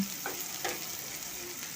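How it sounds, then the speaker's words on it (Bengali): Onions fry in a pan with a faint, even sizzling hiss and a couple of soft stirring taps, close by and quiet. "পেঁয়াজটা লাল করে ভেজে নিতে হবে"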